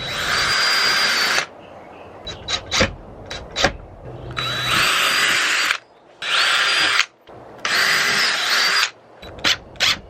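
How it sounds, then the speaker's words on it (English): A power drill pre-drills holes in a van roof to mount a Maxx Air fan, with three long whining bursts of about one to two seconds each, separated by short clicks and handling knocks, close and loud. "We'll take this off. I'm gonna clean it, and then we're gonna pre-drill our holes and then screw it in with the screws that provided with the Maxx fan."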